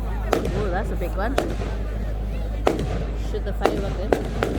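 Bonfire Night fireworks burst outdoors in about six sharp, separate bangs of moderate loudness, spaced irregularly, with a child and adults chatting between and over them.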